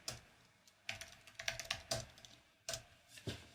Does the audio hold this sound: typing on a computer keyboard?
yes